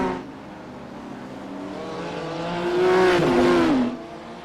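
GT3 race cars at Mount Panorama: a loud, steady engine roar that swells as a car passes close, with a rising then falling engine tone before fading slightly.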